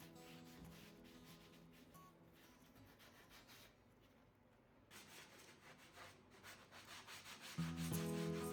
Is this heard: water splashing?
no